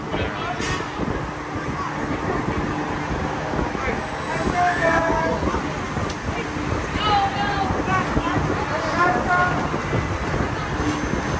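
A continuous rumbling clatter of a ride running along its track, like a train rolling steadily, with voices talking and calling over it.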